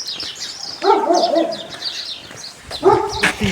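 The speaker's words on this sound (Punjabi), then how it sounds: "ਬੜਾ ਹੀ ਵੱਡਾ ਕੁੱਤਾ ਹੈ" A big dog kept behind a fence in a yard beside small vegetable beds barks in a few deep bursts, fairly close, with birds chirping in the background and no talk.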